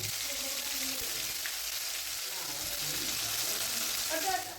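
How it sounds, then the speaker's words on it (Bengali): Ground spice paste hitting hot oil for a vegetarian eggplant dish, giving a soft, even sizzle that hisses continuously at low volume. "এবার এই গরম তেলের মধ্যে আমরা যে মশলাটা রেডি করে রেখেছি সেই মশলাটা দিয়ে দিচ্ছি"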